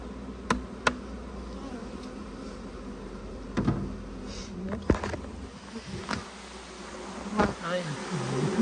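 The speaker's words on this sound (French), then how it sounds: "Il faut vraiment une ruche qui dégueule comme ça des abeilles." Honeybees and large drones buzzing around an open hive during queen rearing, a steady close hum with individual insects zipping loudly past the ear several times.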